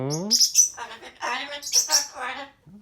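A pet bird chirps close by in quick bright bursts, mixing high whistled tweets with warbling, speech-like squawks over a few seconds.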